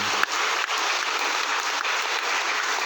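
Steady broadband applause from a church congregation at an El Shaddai anniversary gathering, a dense continuous patter of many hands filling the whole stretch, close and fairly loud with no pauses.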